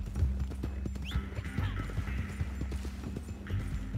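Horse hooves clip-clop in the online mode of the video game Red Dead Redemption 2, a steady close trotting rhythm with a brief whinny, heard over continuous background game ambience.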